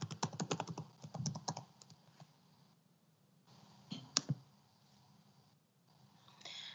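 A password is typed on a computer keyboard in quick bursts of soft clicking keystrokes, separated by short pauses, quiet and close.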